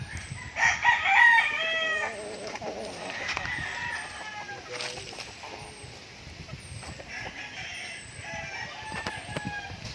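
Chickens and roosters on a farm, with a loud rooster crow near the start followed by clucking and further calls, birds chirping faintly behind, and someone talking at times.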